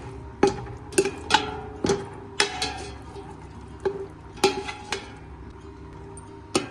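Spoon clinking and scraping in a pan while stirring green chillies with coriander, cumin and fenugreek powders for egg biryani, a series of sharp irregular taps at moderate distance, with no talking.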